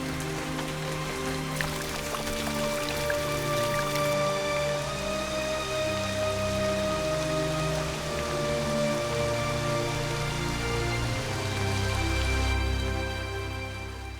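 Heavy rainstorm soaking a tropical forest and flooding a temple ruin, a steady dense patter of drops on surfaces with no break, close and continuous throughout.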